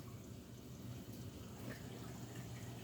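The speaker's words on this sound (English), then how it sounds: "these wave makers here, they keep the water moving." Steady, faint wash of moving water as aquarium wave makers circulate a large tank, a continuous soft rushing hiss with no breaks.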